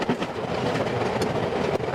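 London Underground tube train running between Golders Green and Edgware, a steady loud rumble of wheels on rail with faint clickety-clack and a brief squeal, continuous throughout with no talking.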